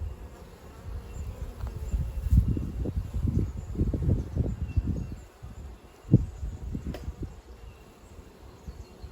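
Honeybees buzz steadily from an open top-bar hive during an inspection, a close, fluctuating drone that swells in several waves, with no talking.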